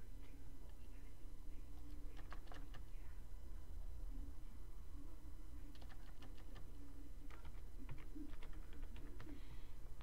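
Computer keyboard typing comes in short bursts of quick clicks separated by pauses, set against a low steady hum.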